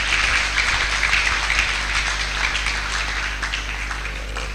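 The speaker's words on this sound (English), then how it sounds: "I would like for you to give her another round of applause" Sustained audience applause at a JCI Nigeria TOYP awards event after a singer's performance, a dense steady wash of many hands that stays fairly even and thins only slightly toward the end.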